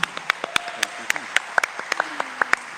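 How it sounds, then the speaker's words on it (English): Panel audience at a Tigray community event gives a round of applause, scattered, distinct hand claps that sound fairly thin and sparse rather than a full roar, heard up close. "give a massive round of applause to my panelists here"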